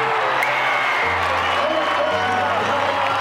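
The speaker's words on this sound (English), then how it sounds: "This partisan Joburg crowd on their feet." A partisan Johannesburg crowd at a schools rugby final rises to its feet, cheering and applauding in a loud sustained roar, while a commentator talks over the noise.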